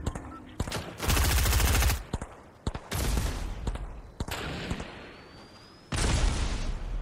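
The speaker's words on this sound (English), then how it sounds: "He's shooting at me." Enemy gunfire in a shooter video game, loud sustained bursts of automatic fire in several long volleys broken by short gaps and single shots, close and dominant.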